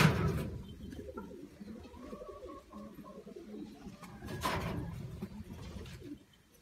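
Pigeons coo in a soft, steady run of low throaty calls through the stretch, with a louder burst near the end and no voices.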